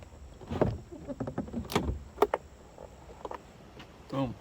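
A trim removal tool pries a door panel off a Ram truck: a few sharp plastic clicks and pops with scraping in between, close and moderately loud, with soft handling noises around them.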